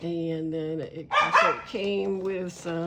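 A dog barks a few times in the middle of a person talking, the barks loud and close, partly overlapping the speech.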